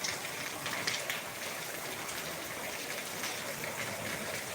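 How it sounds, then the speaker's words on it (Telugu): Steady rain pours down in Hyderabad in a dense, even hiss that fills the air without pause. "ఇప్పుడే వర్షం ప్రారంభమైంది"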